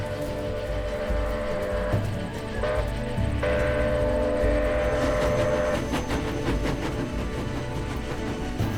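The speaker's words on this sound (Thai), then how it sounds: "เร่งฝีเท้าไปดูรถไฟสายมอนทรีออลแล่นไปเมืองบัฟฟาโลรัฐนิวยอร์กตามเคย" A passenger train on the Montreal line to Buffalo, New York, around 1912 rumbles past loud and close, with sustained horn-like tones in the middle and a rhythmic clatter of wheels building toward the end.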